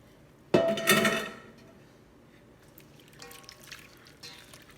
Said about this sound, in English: I'm going to dump them out of the pot into the cold water in the